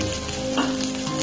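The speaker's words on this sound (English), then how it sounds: "if you are frying it this way, the flame is put in simmer" Shredded cabbage frying lightly in a pan over a low simmer flame for a cabbage pachadi chutney, giving a steady soft sizzle with faint stirring scrapes throughout, no talk.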